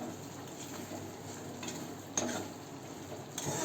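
Ivy gourd vegetable dish in oil being stirred in a pan, a steady soft sizzle with a few light scrapes of the spoon against the metal, close and continuous, no talking.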